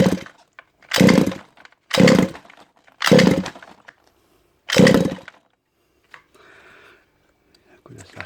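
Petrol engine on a 1/5 scale Yama RC car being pull-started in a workshop, with five loud rasping bursts roughly a second apart as the cord is yanked, then quieter rattling sounds; the engine does not keep running.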